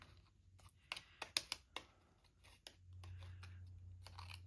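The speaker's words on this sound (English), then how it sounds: "we'll just take our scissors and" Scissors snipping through vellum paper at close range, a handful of sharp separate clicks and cuts spread across the clip over a quiet background hum.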